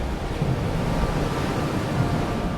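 Ocean surf rolls steadily onto the shore at Sorake beach in South Nias, a continuous broad wash of breaking waves with no distinct individual crashes and no one speaking.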